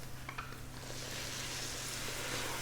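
White wine sizzles and crackles as it hits a hot risotto pan, a soft steady frying hiss that swells slightly, heard up close without speech.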